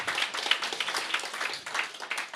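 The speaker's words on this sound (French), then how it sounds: "On l'applaudit." An audience at a medical conference introduction claps for a short stretch, with individual claps audible in an uneven patter that sounds like a modest crowd, moderately near, with no speech.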